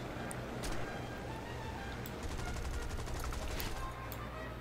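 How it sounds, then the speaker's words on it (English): Faint bursts of machine-gun fire crackle in the distance at a player's plane in the War Thunder video game, scattered rapid volleys over a steady low engine drone, quiet and without talking. "someone is shooting at me"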